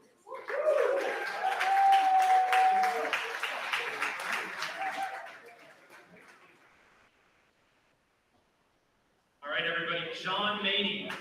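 Conference audience applause from a crowd, loud and dense for about five seconds before fading into quiet, then a second burst of clapping near the end.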